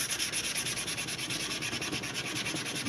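Sandpaper works over a forged knife handle in steady, rhythmic back-and-forth strokes, close and loud, with no voices.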